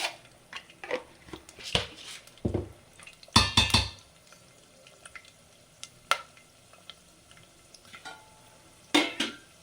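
Urad dal and chana dal frying with mustard seeds in a pan for wheat rava upma, with a spoon stirring and scraping against the pan in irregular clattering bursts over a soft sizzle.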